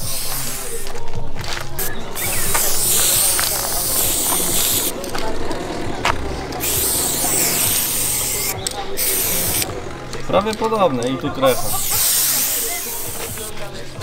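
Long hissing bursts from a spray paint can being used to paint a wrecked race car, several sustained sprays separated by short pauses, close and loud, with people talking over and between them.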